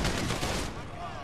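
Dense burst of gunfire in the online video game GTA V during a four-player survival match on Del Perro Pier, a steady rattle of shots through the whole moment.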